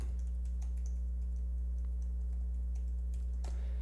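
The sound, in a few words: typing a password on a computer keyboard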